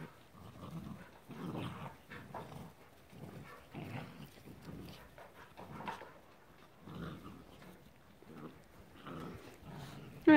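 Low growls and soft whimpering noises from puppies, scuffling and overlapping continuously at a fairly quiet level.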